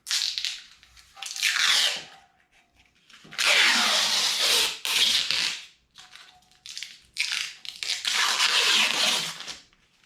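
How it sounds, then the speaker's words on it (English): A saw rips a wood strip lengthwise for a copper-topped Telecaster guitar build, cutting in two long loud bursts with short quieter passes between, close up and with no talking. "Let's rip this thing in half."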